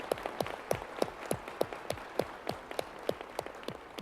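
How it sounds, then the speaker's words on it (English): Sparse, steady audience clapping at a business forum meeting, a handful of sharp claps spaced evenly at a moderate pace, fairly clear with no talking. "how about a round of applause to welcome our students and thank their sponsors."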